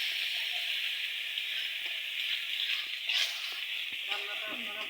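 Whole spices frying in hot oil in a wok for a fish dish, a loud continuous hiss-like sizzle with light stirring taps and scrapes, close and steady throughout.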